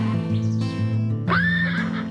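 Przewalski's horses neigh nearby, a loud whinny that rises and wavers over about two seconds, standing alone without talk.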